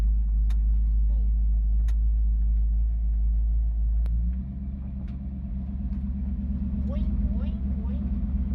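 A Mopar 440 V8 car engine with a misfire drives along with a loud, steady low rumble, its pitch shifting partway through, while people talk over it.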